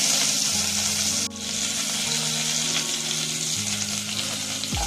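Cumin, green chillies and curry leaves crackle in hot oil for rice khichdi, a loud dense sizzle with a sharp burst as the ingredients hit the pan, then continuous spattering frying and no speech.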